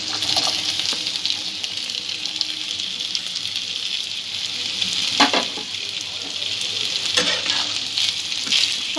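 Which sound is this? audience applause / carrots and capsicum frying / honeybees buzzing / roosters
carrots and capsicum frying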